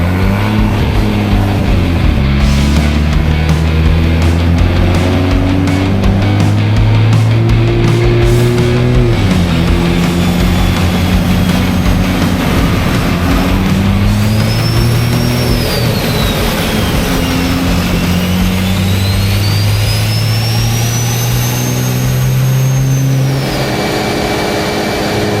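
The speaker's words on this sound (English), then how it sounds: "We've got some dyno footage that we're going to roll now while we're dialing in the car on 93" Toyota Supra fitted with a Remnant Omega 65 turbo kit runs on a dyno, its engine droning loud and steady, climbing through repeated rising pulls with a high turbo whistle sweeping late, no voices over it.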